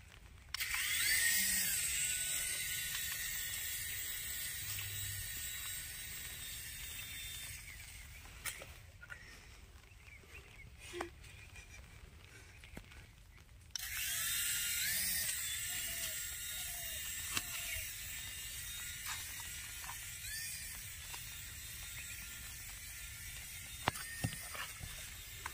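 An RC helicopter flying outdoors on a rainy day, its high buzzing rotor whine loud and steady, dropping away for several seconds with scattered clicks before returning close.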